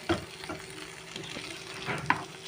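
Mackerel coated in masala frying in a pan, a low steady sizzle with soft scraping stir sounds and a couple of sharper pops near the end.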